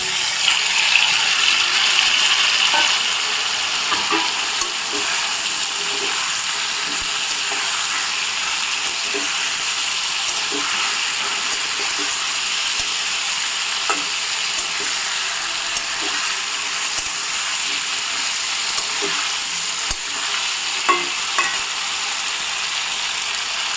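Cauliflower frying in a pan with cooked-down tomato and spices for a roast dish, a steady loud sizzle throughout with occasional soft stirring clicks and scrapes.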